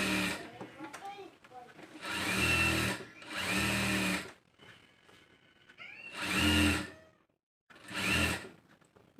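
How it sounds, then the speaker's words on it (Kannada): A sewing machine stitches a blouse in several loud bursts of rapid whirring, each lasting a second or two, separated by pauses in which fabric rustles and faint handling noises are heard. "ನೋಡಿ ಯಾವ ಥರ ನಾನು ಸ್ಟಿಚ್ ಮಾಡ್ತಾ ಇದ್ದೀನಿ ಅಂತ."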